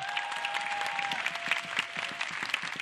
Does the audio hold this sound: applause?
yes